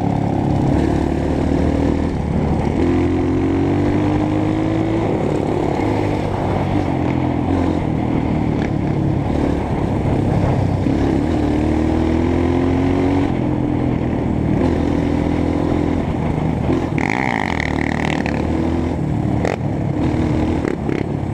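A dirt bike engine drones and revs loudly and close, its pitch rising and dipping in repeated surges.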